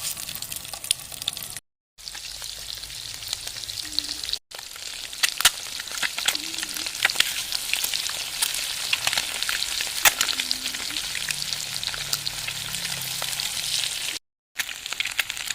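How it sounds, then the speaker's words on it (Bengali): Eggs fry in hot oil in a pan with a steady, close sizzle and scattered sharp crackles and pops, broken by a few brief cuts to silence. "এবার ডিমগুলোকে ভেজে নেব।"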